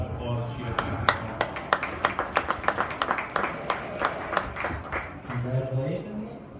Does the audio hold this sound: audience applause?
yes